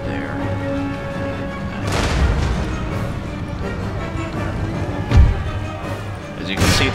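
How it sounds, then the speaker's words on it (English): Musket volleys crackle across a battlefield in the strategy game Empire Total War, with a few sharper bursts standing out above a steady rumble of distant fire and battle noise. "See if I can direct my guys to shoot over there."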